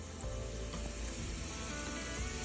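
Onions, chillies and tomatoes fry in coconut oil and butter in a pan for masala Maggi, producing a steady close sizzle with faint crackles and the occasional stirring scrape.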